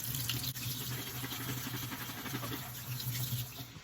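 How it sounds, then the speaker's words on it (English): A tap runs steadily, water splashing continuously into a sink at close range while canned cannellini beans are drained and rinsed. "We're going to drain and rinse our can of cannelloni beans."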